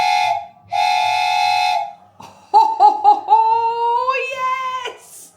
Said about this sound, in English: It's a train whistle.